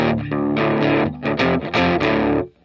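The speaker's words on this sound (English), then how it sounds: "the pedal and the distortion at the lowest it can be" An electric guitar runs through a Behringer Heavy Metal HM300 distortion pedal set to its lowest gain, EQ at noon, playing a loud, buzzing run of chords and notes that cuts off abruptly at the end.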